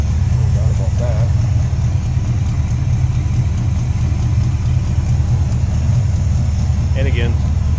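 A 1969 Ford Galaxie XL hardtop with a 429 V8 idles smoothly and steadily, a continuous low rumble heard close up, while someone talks over it.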